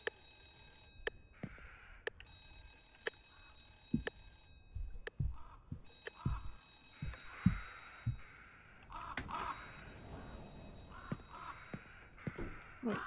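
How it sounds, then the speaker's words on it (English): Old-fashioned telephone bell ringing inside an office in the horror game Remothered: Broken Porcelain, repeated rings in regular bursts over tense background music and footsteps. "A telephone! It's coming from Ashmann's office."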